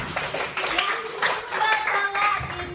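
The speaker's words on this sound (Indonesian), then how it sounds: "Boleh tepuk tangan dulu untuk kita semua." Applause from a class of participants at a teacher training session, many hands clapping together in a steady broadband patter lasting a few seconds, with some voices mixed in underneath.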